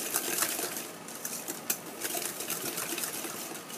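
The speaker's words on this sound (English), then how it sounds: "And get this all whisked up." Whisking lemon bundt cake batter in a bowl, a steady close rapid clicking and scraping patter that runs continuously at moderate loudness.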